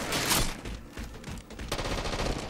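Gunfire in the video game Halo 4, a rapid burst of loud automatic shots and blasts packed tightly together, dense and close, with no voices over it.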